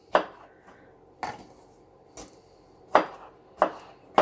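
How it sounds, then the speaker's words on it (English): A knife roughly chopping a seeded pepper on a cutting board, five or six sharp separate thwacks at an uneven pace, close and clear with quiet gaps between strokes. "I'll just give that a rough chop"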